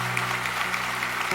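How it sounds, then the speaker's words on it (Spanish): A church congregation claps together, a steady wash of applause under a faint sustained tone, moderately loud and brief. "Démosle ese aplauso al Señor."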